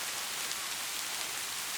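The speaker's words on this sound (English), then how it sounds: "Presently it began to rain, and the drops fell faster and faster, till there was a heavy shower." Heavy rain shower pours steadily, a dense, even hiss of falling drops with no breaks, loud and close, with no other sounds over it.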